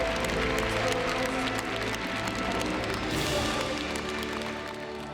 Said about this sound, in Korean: 박수 하나님께 드리겠습니다